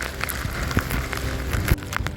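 Heavy monsoon rain pours down outdoors near paddy fields in a village, a dense steady patter of drops hitting surfaces with a few louder nearby splashes, no voices.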